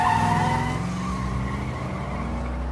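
A car speeds off with tires skidding and squealing, a loud close rush of engine and tire noise that fades slightly over under three seconds.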